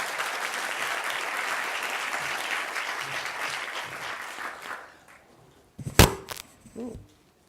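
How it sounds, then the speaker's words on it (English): Audience applause welcoming a professor at a Buddhist counselling symposium in Hong Kong, a steady, dense clapping that fills the room for about five seconds, then fades to quiet before a few closer handling noises. "please give a big round of applause"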